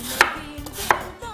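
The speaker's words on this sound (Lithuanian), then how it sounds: "Supjaustome, tikrai ne labai smulkiam, nesmulkiais griežinėliais." A knife slices through apples in fairly large pieces, two distinct crisp chopping strikes against a board, close and clear with no talking.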